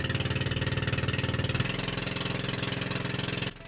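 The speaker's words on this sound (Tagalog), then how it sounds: "Sasakay kami ng pamboat papuntang bungsod" A pumpboat engine runs steadily on the way to a bungsod fish corral in Siargao, a loud, close, rhythmic mid-pitched chugging that continues throughout and drops off near the end.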